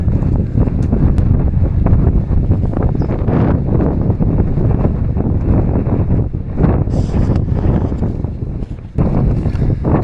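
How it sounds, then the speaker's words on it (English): Strong gusts batter the microphone high on a wet, windy mountain slope near Y Garn, producing a loud, continuous roaring rumble that swells and dips for the whole stretch with no clear voice. "So windy here."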